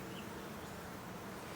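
Caucasian honeybees buzzing inside an open hive, a dense, steady hum of many wings holding evenly throughout, close and fairly quiet with no voices.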